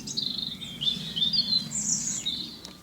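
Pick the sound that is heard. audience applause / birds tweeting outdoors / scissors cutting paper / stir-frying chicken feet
birds tweeting outdoors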